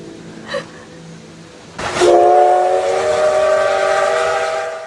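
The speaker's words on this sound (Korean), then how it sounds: "어디선가 기차 소리가 들리죠" A coal-powered steam train's whistle blasts loudly and holds steady over rumbling engine noise as it approaches, after a brief faint tone and a rising rush.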